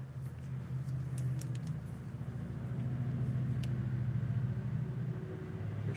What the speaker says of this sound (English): Probably an old crap truck.